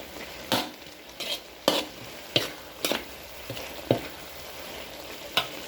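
Pickled bamboo shoots with curry paste are stir-fried in a pan for a Thai dish. A steady sizzle is broken by repeated scraping spatula strokes at an uneven rhythm, close and fairly loud, with no talking.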